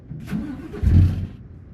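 A Scania R440 truck engine in Euro Truck Simulator 2 with ProMods, on winding roads. A deep, close rumble swells into a brief rev midway and settles back, with no talk.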